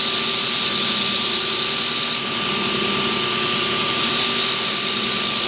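A belt grinder runs steadily while a draw knife blade is lightly touched to the platen to put on a micro bevel, giving a continuous loud whirring hum with a constant tone that holds for the whole stretch.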